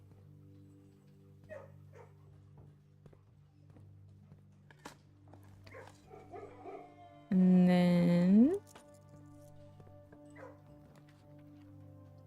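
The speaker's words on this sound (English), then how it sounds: "Let's pet the dog." A dog in the video game Blue Prince gives one loud, drawn-out whining bark when petted, rising out of quiet game music with soft talk around it.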